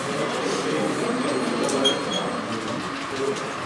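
A model railway locomotive runs on a layout at a model train exhibition, producing a continuous soft rolling rumble with faint metallic squeaks amid diffuse hall ambience.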